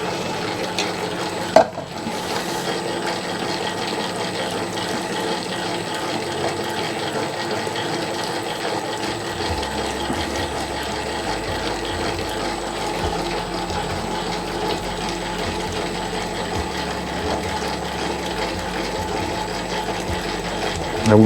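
Dough mixing machine kneading a 100% biga pizza dough, giving a steady mechanical whir with rhythmic clicking and slapping of the dough, continuing evenly throughout and shifting to a lower hum partway through.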